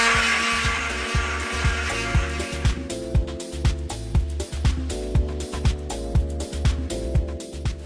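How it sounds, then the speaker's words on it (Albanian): A kitchen blender whirs steadily, mixing cinnamon panna cotta cream, its motor loud and close, with a rhythmic pulsing chop that repeats about every half second as the mixture churns. "Për ta përë masën sa më homogjene, dhe kalojmë në blender"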